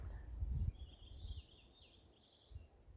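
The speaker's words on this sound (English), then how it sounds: "Listen to the birds." Faint birdsong drifts in from a distance in the Northern Maine woods, a thin wavering call over quiet outdoor ambience with a few low rumbles.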